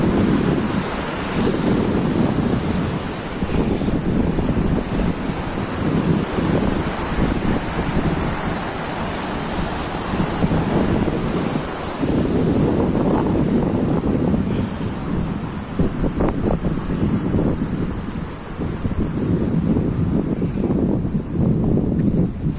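Strong wind roars steadily across an exposed mountain trail near Lac de Gaube in the Pyrenees, buffeting the microphone with loud, continuous gusts and low rumble throughout, with no voices.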